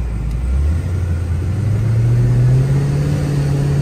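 A 2006 Dodge Charger SRT8 engine, heavily modified with a Procharger, pulls hard from inside the car. Its deep, loud engine rumble climbs steadily in pitch as it accelerates, with no talking.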